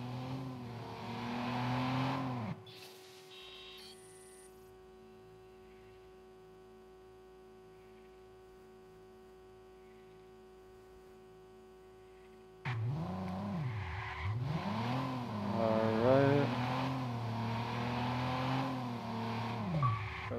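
A car being driven in the video game Watch Dogs, with engine revs and tire squeals at the start, a long quieter stretch of steady tones, then revving and skidding again.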